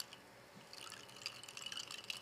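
Pumpkin-flavored drink concentrate is poured, making a soft liquid trickle with faint dripping and splashing that builds slightly over about two seconds, quiet and close.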